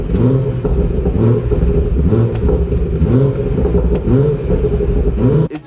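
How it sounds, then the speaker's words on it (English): A BMW 340i exhaust revving in repeated rising and falling bursts, loud and close, with a steady deep burble underneath and sharp pops and crackles on the lift-offs, cutting off abruptly at the end. "most people, when they hear the exhaust on this car for the first time, they absolutely lose their mind because it's popping, it's burbling, there's crackles"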